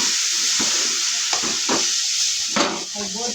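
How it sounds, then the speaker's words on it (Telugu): Carrot halvah mixture frying in ghee gives off a steady bright sizzle, with a few soft scraping stirs of a spoon through the thick mass and no talking. "పచ్చి వాసన పోయేదాకా ఎంపాలి"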